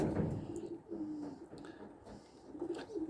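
A young pigeon coos in soft repeated low calls while its leg is being ringed, the calls close and gentle with brief pauses between them.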